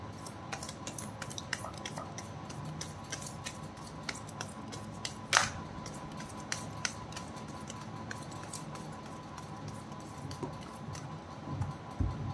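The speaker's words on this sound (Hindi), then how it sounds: "This is my last shuffle" Tarot cards being shuffled by hand, a soft continuous papery patter with scattered crisp ticks and flicks, close and quiet, with one sharper snap partway through and no talking.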